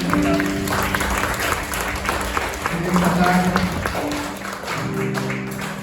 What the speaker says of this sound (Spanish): Dar un fuerte aplauso al Señor Jesucristo.